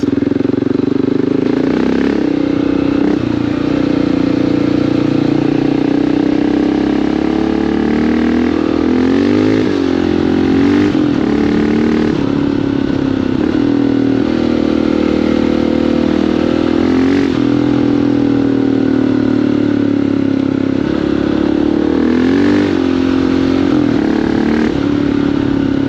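Honda XR650L dual-sport motorcycle engine running loud and close for the whole stretch, its steady drone swelling and dipping as the throttle is blipped, with no talk over it.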